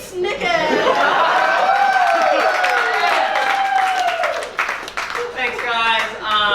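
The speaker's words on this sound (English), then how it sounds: "Give a warm round of applause for Mr. Lemony Snicket." Applause from a stage audience as a performer is introduced, with clapping mixed with whoops and cheering voices that swell loudly, dip briefly near the end, then rise again.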